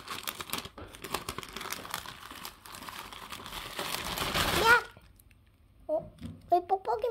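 A package of photocards wrapped in bubble wrap is opened with loud crinkling and tearing of plastic up close, then stops, followed by a few brief rustles with a voice speaking.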